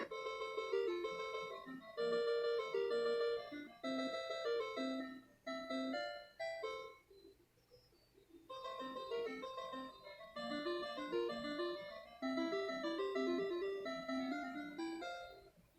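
A bouncy, tinny chiptune melody from a bootleg 400-in-1 portable NES Famiclone plays on its own, looping a cheerful title-screen tune with brief pauses.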